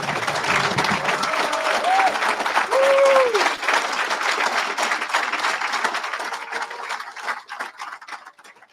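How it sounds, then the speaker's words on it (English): Audience applause at a graduation ceremony for a prisoner reentry program, a dense burst of clapping from a large crowd that holds steady, then thins out and fades over the final seconds, with a few cheering voices rising above it. "Can we give Asha another round of applause?"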